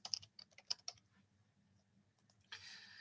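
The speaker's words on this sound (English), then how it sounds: "you'll start typing in your email address" Quick bursts of keyboard typing, a cluster of soft clicks, then a pause before a brief hissing noise at the end.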